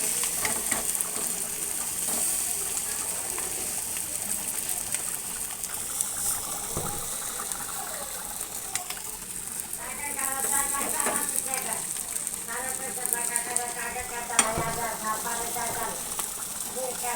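Egg paturi frying in a pan and being gently flipped: a steady low sizzle and bubbling hiss runs throughout, with occasional soft scraping, and voices are heard in the later part.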